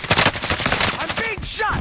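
Rapid automatic gunfire in a Call of Duty match, a dense burst of close shots filling the first second before thinning out under brief game voice chatter.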